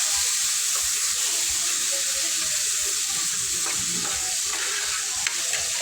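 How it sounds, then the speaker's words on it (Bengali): Chopped tomatoes frying in a pan, stirred with a spatula: a loud, constant hiss of sizzling with soft scraping and light clatter from the stirring, no speech. "তো এরপর এখানে টমেটো কুচিগুলি দিয়ে দিব, দিয়ে খুন্তির সাহায্যে ভালো করে নেড়ে চেড়ে নেব।"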